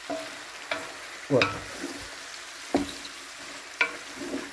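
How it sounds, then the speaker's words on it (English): Eggplants and carrots frying in a pan get stirred with a utensil, giving a few distinct scraping knocks over a soft background sizzle; one brief word is spoken. "I'll just give it a stir"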